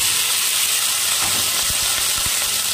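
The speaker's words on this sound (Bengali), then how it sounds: "তেলটা দিয়ে একটু তেলটা গরম হলে তার মধ্যে কাঁকড়াগুলো দিয়ে দেব।" Crabs frying in a pan of hot oil give off a steady, loud sizzle and hiss, with occasional low pops and stirring knocks underneath.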